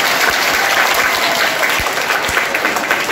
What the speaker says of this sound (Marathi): जोरात टाळ्या झाल्या पाहिजे त्यांच्यासाठी